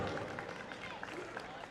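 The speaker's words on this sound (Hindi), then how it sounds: "ये तालियां बजती रहेंगी, ये तालियां नहीं रुकनी चाहिए जब तक हम ना रुके" An audience claps steadily at a staged event, a dense patter of applause filling the space at moderate volume, with a voice speaking over it.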